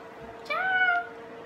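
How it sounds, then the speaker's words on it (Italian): A domestic cat gives a single clear meow lasting about half a second, rising then falling in pitch, heard close and alone over a quiet indoor background. "Ho due gatti per chi non lo sa."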